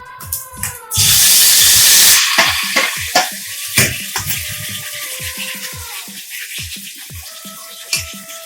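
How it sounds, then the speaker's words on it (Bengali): Yogurt-marinated eggplant drops into hot oil with a loud burst of sizzling and hissing that lasts about a second, then settles into quieter frying crackle broken by sharp clinks and knocks of a utensil stirring. "বেগুনটা এবার তেলের মধ্যে ছেড়ে দিচ্ছি।"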